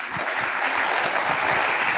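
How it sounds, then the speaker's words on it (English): An audience at an innovation expedition session on failures and innovations applauds, a dense, steady clapping that continues evenly throughout, moderately loud and without talk. "Big round of applause, Annabelle."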